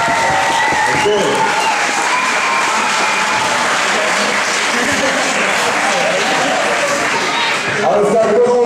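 Crowd at a b-boy breakdance battle claps and cheers in a loud, dense, steady roar of applause that fills the whole stretch, with voices calling out through it.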